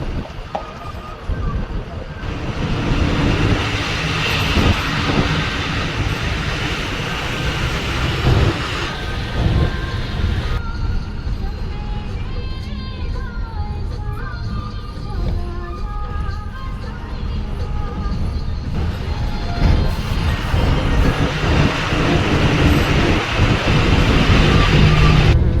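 A bus drives a mountain road between Nadal and Chamba at night, its continuous engine rumble and road noise steady and close throughout, with a voice talking at times over it.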